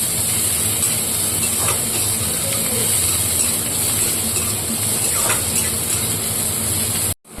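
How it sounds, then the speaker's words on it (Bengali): Onions fry in a pan over a raised flame with a steady, close hiss and spitting sizzle. The sound continues throughout and cuts off abruptly at the end. "পেঁয়াজগুলো অল্প করে একটু ভাজা ভাজা করে নেব"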